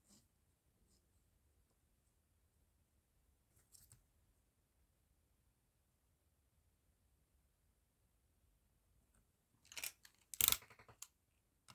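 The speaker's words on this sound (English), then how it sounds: "this time I'm going to cut according to the edges of the page." Scissors cut along the edges of a paper page for a Christmas booklet: mostly near-silence, then a short cluster of crisp snips and paper rustle near the end, close and quiet.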